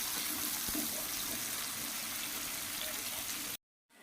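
Two small onions sizzle in a pan as fish curry with raw mango is cooked, a steady broadband frying hiss that continues evenly before cutting off abruptly near the end.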